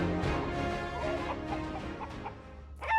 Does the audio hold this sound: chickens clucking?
yes